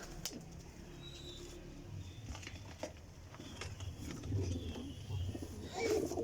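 Pigeons of a high-flying breed coo softly at close range in a loft, low murmuring calls repeating with rustling and patter around them.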